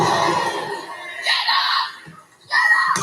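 A wrestler screaming from ringside during a wrestling match, in loud bursts over crowd noise.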